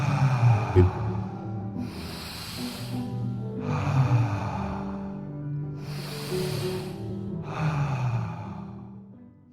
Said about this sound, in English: Inhale through your nose.